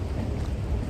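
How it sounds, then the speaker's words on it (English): Steady rain falling outdoors in New York City, a dense, even hiss and patter with low rumbling underneath, continuous and fairly loud throughout with no voices. "It's raining."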